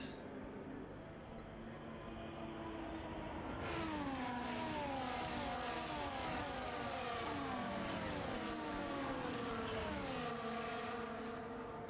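Formula 1 cars in F1 24 rolling around Monza on the formation lap, a steady engine drone that swells with several rising whines of cars accelerating and shifting gears.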